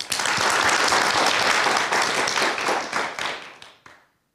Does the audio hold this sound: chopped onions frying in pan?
no